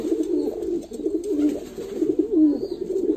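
Pigeons in a loft coo in soft, rolling, overlapping calls close by, with no one speaking.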